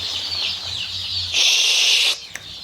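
Twenty-five-day-old black chicks at a sale cheep in a dense, continuous high chorus, rising louder for a moment before a brief dip, heard close without talk.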